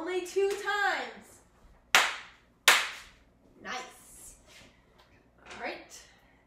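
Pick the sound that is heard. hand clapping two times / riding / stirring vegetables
hand clapping two times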